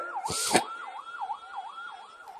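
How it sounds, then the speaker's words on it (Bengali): Ambulance siren passing in the distance, its wailing tone rising and falling in a steady repeating sweep, with a brief burst of noise near the start. "ডানে কি অ্যাম্বুলেন্স যাচ্ছে"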